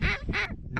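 Mallard ducks quacking close by during a hunt over a plowed corn field, three loud raspy quack bursts in quick succession.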